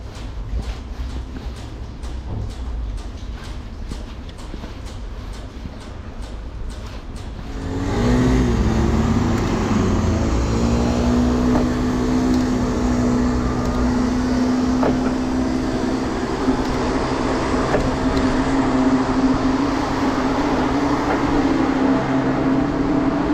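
Heavy rain on the road with a car passing close by, a steady loud wash of spray and engine noise that swells suddenly and stays strong and continuous.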